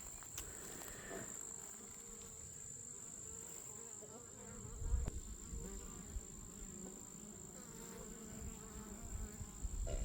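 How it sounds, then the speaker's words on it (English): Bees buzz steadily around goldenrod on a homestead in a continuous, close hum that lasts the whole stretch. A thin insect whine runs above it, with no talking. "The bees are nice and active."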